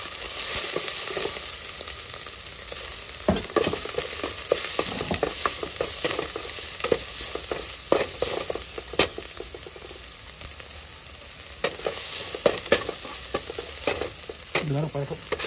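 Beef curry with mixed vegetables stirred and fried in a pan, with steady sizzling and repeated scraping stir strokes throughout, close and fairly loud, with no talking.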